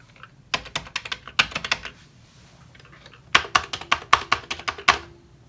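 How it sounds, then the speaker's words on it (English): Keys on a Commodore 64 keyboard clack in two quick bursts of typing, crisp and close, separated by a short pause, with no voices. "the C64's keys actually kind of feel and sound a bit nicer than the VIC-20 here"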